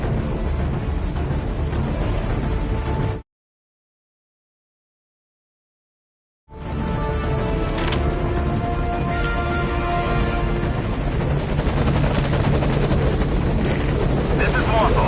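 A helicopter in Metal Gear Solid V approaches a landing zone, its rotor thrum loud and continuous, cut by a few seconds of total silence before resuming with radio voices talking over it.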